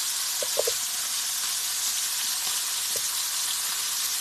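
Ribeye steaks sizzle in a pan over medium-high heat, a steady close, bright frying hiss with a few soft clinks near the start and no talking.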